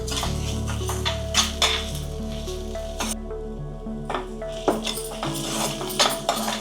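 Ginger garlic paste frying with mutton kheema in a pan makes a loud, close sizzle, broken by clinks and scrapes of a metal spoon against the pan and a brief hush partway through.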